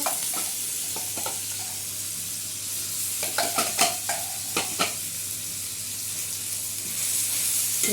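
Masala spices fry in hot oil for old-style rajma, a steady close sizzle broken by a few sharp clinks and scrapes of stirring near the middle.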